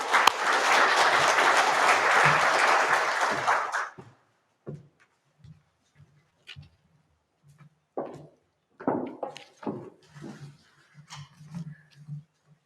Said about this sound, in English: So let's give them both a round of applause.